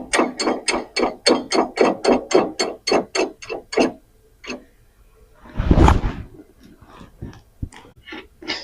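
A hand ratchet tightens bolts on a trailer brake backing plate with a close, steady run of about a dozen sharp clicking strokes, a pause, a brief metallic clunk, then a few slower clicks.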